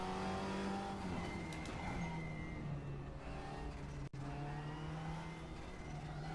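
A Porsche race car engine roars in the RaceRoom racing game, holding a loud, steady droning note that rises and falls with gear changes and a brief cut in the middle, heard alone without talk.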